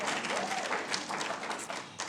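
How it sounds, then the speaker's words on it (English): Quiet, distant-sounding applause from a university lecture audience: a soft, continuous patter of clapping for about two seconds. "So yes, let's applaud."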